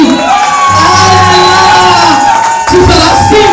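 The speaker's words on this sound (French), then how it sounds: "Oh, applaudissez pour Jésus." A church congregation claps and cheers for Jesus during a sermon, a loud crowd roar with shouts and whoops layered over music-like tones, with a voice heard in the mix.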